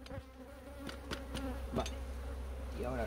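Honeybees buzzing around an opened beehive during a Varroa mite check: a constant, close, droning hum with individual bees whizzing past, plus a few sharp clicks and knocks from handling the hive frames.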